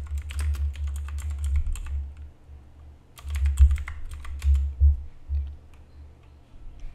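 Computer keyboard typing in two bursts of rapid clicks separated by a short pause, close and fairly loud, with no voices.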